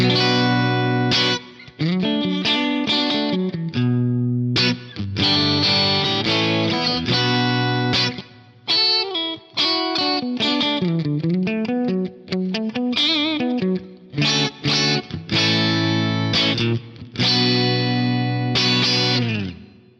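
Electric guitar playing chords and melodic runs with a bright, ringing tone and a reverb tail, notes sustaining and gliding, no talking.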